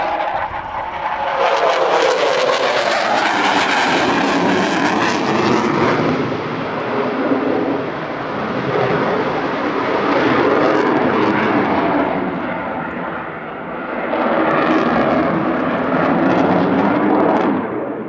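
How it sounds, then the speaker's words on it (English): Eurofighter Typhoon jet making a fast pass at 550 knots at the Southport Airshow, a loud roaring engine sweep that swells, shifts in pitch as it passes, eases and then surges again with broadband jet rumble, no talk. "approaching from the right for a fast pass at 550 knots, braking into a 9G barrel roll"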